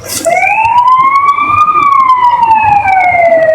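A siren wails loud and close, its pitch gliding steadily up and then sweeping back down over a low rumble of road traffic, with no voices over it.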